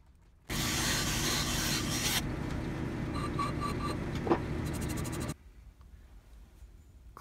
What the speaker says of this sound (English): Cleaned up the thread a little bit there, just to get the burr off of the top of it.